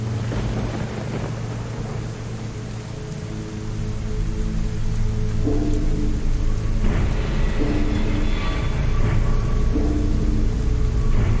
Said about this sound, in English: Oh wow, thunder.